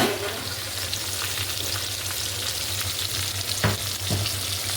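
Fish fries in a pan with a dense, steady sizzle heard up close, broken by a couple of brief scraping clinks near the end.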